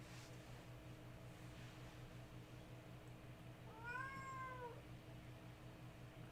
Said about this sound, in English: I heard a very Mogwai-esque sound coming from your cat.